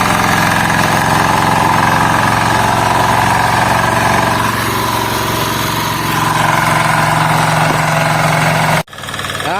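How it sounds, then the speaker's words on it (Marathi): A farm tractor engine climbs uphill in the Konkan countryside, a loud, close, steady diesel drone with knocking vibration throughout, ending in an abrupt cut-off. "आता इथून ट्रॅक्टर चढवणार वरती."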